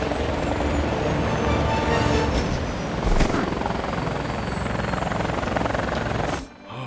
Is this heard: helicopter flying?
yes